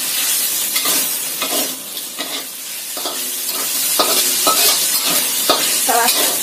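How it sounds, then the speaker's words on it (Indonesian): Shallots, garlic and chili sauté in a hot pan for a chicken dish, a steady broadband sizzle with repeated scraping stirs of a spatula throughout, close and fairly loud, with no talking. "Kita tumis sampai bawang merahnya ini layu dan bawang putihnya itu tercium aroma enaknya."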